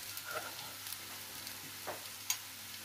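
Food stirred in a pan on a gas stove, a faint soft scraping and light sizzle with a few sharp spoon clicks against the pan, quiet and close.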